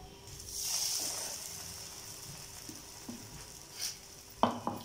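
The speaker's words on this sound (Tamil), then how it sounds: "நம்ம இதே மாதிரியே எல்லா ப்ரெட்டு துண்டையும் இதே மாதிரி நம்ம டோஸ்ட் பண்ணி எடுத்துக்கலாம்" Bread slices toasting in ghee in a pan give a soft sizzling hiss that swells early and fades, followed by a few faint scrapes and taps near the end.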